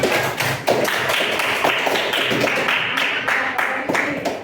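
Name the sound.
classroom students clapping for group 1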